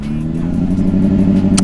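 A Honda CBR 600RR sport motorcycle engine drones steadily while being ridden, a loud, continuous mid-low hum with strong harmonics and a slight rise in intensity, with no voices present.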